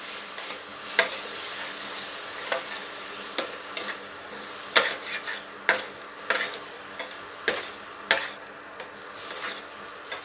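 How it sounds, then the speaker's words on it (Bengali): Ground yardlong bean paste is stirred in a hot wok that is slightly scorched. A soft sizzle runs underneath, and a spatula scrapes against the metal at roughly one-second intervals, each stroke a distinct, sharp scratch close by. "বরবটি বাটাটা দিয়ে আমি এভাবে নেড়ে নেব।"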